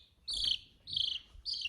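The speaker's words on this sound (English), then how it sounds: "I was gonna show you the chirping noise" High, thin insect-like chirps repeat three times at an even pace, each a short shrill trill with brief gaps between, faint and close in an otherwise quiet room.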